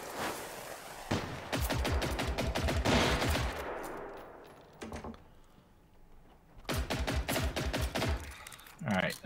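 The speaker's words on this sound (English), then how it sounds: "Alright, enough of you shooting." Rapid bursts of automatic gunfire in the video game Generation Zero, loud and close, firing in two long volleys with a quieter gap between them, mixed with a few mechanical clanks.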